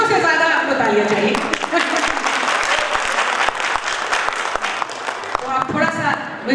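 Audience applause at an International Women's Day event at Audrey House, Ranchi, a loud, sustained burst of many hands clapping together, with a voice speaking over the start and end of it.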